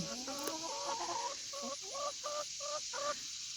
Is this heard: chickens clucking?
yes